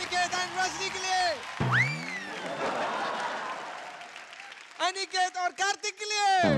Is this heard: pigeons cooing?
no